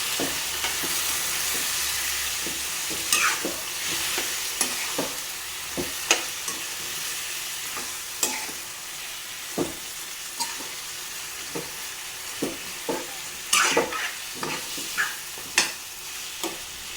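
Masala with kasuri methi sautéed in a pan, a steady close sizzle broken by repeated sharp scrapes and clinks of a spatula stirring, with no talking.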